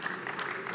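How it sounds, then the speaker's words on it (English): Audience applause at a governors' forum session, a brief, even patter of many hands clapping at a fairly low level with no distinct voices over it. "On your applause, please."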